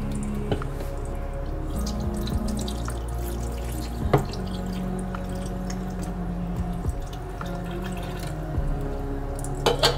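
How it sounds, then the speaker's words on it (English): Mango juice pours into sea moss, making soft, close liquid trickles and scattered drips over a quiet background, with no talking. "I'm gonna just add this mango juice for flavor"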